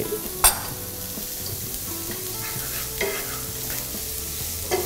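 Vegetables stir-fry in butter for a spaghetti bolognese sauce. A steady bright sizzle carries throughout, with a sharp utensil clack near the start and repeated scraping strokes as the pan is stirred.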